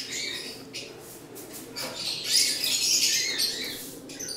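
Racing pigeons in a loft aviary, with raspy squawks and chirps close by that swell and rise in the middle of the stretch, over a busy flutter of background noise.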